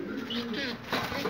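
Pigeons coo nearby in soft, low, throaty bursts, with some faint rustling in the background.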